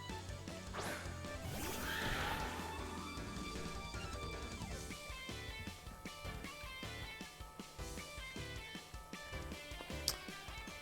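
Horse Pokémon whinny during a Pokémon video game battle, a loud rising neigh near the start over busy game music with crashing hit effects and sharp percussive impacts throughout.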